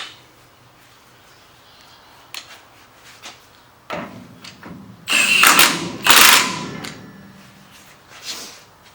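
A ratchet snugs nuts and washers back onto a car's rear end, with a few scattered metallic knocks, then two louder bursts of rapid clicking and rattling at close range.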